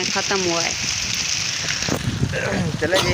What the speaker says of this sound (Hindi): बारिश बहुत ज़्यादा तेज़ हो गई है बाहर।